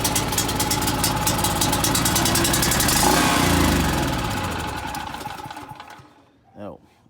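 A Champion generator's small engine starts with the choke on and runs in a loud, fast, buzzing idle. It slowly fades and cuts out near the end, and a voice briefly speaks after it stops.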